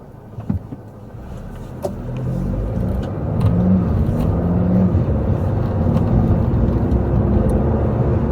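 A car on a freeway accelerates, its engine and road noise climbing from a quieter start to a steady loud roar inside the cabin.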